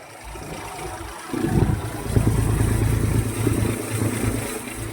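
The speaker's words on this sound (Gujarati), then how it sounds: "ટ્રેક્ટર લગભગ 10-11 ઉપર હાલે છે." A tractor powering a Vishwas thresher for cumin starts up with a low, heavy engine rumble and settles into a steady, loud mechanical drone with rattling machinery. It is close by and continuous, with no talking.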